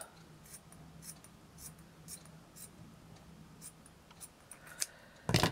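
Craft scissors snipping while shaping a handmade flower piece, a few quiet, scattered cuts spread across a soft background, ending in a louder close rustle.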